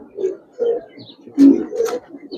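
A Giribaz pigeon held in the hand gives a few soft, close coos in quick succession.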